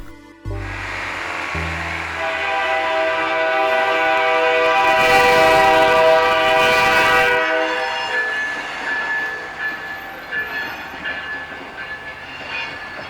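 A K&O freight train rolls past a Central Kansas railroad crossing, its horn blaring in long loud blasts over steady rumbling wheels and a crossing bell, close and continuous throughout.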